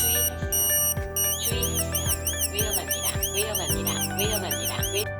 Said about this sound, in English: the pedestrian tag makes a vibration and sound alert to prevent the collision accident